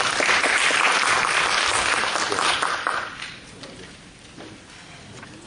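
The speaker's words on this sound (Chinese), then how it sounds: "好，我们掌声欢迎。" Audience at a green-energy forum breaks into loud sustained applause welcoming speakers, dense clapping for about three seconds that then thins and fades.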